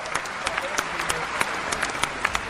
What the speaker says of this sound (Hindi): अगर आपको महसूस हो जाए कि मैंने कुछ अच्छी बात कह दी है तो आपकी तालियां मिले